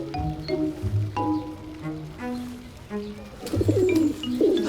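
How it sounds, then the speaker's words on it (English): Young pigeon cooing in a Parisian wildlife setting: a series of soft, low, repeated coos close by, pulsing in short phrases, with faint background ambience and some narration-like voice traces. "A graceful young pigeon, if a little superior."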